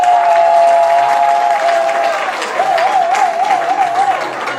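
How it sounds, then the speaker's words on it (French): Full, steady applause and some cheering from a conference audience at a humanitarian event, loud and continuous, with a sustained, wavering musical tone running over it. "je vous demande d'applaudir encore"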